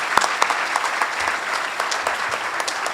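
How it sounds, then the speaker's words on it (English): Family members at a junior police academy graduation applaud the graduates: loud, dense clapping from a large crowd, sustained and even for the whole stretch, with no voices standing out. "how about a round of applause from our family members for these young men and women"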